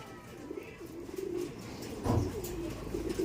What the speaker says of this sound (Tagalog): Iisa lang ang pinaglalandingan ng mga ibong ko.